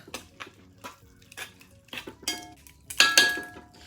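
Utensil stirring onions and garlic frying in a pot, with several scraping clinks against the metal spread over a few seconds and a louder burst of scraping near the end, faint sizzle underneath.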